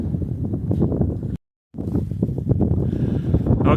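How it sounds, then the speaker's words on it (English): Steady wind buffeting a microphone outdoors at an off-grid site while a shed-in-a-box is built, a continuous broadband rumble that briefly cuts to silence and then resumes just as loud. "It's a little windy out here."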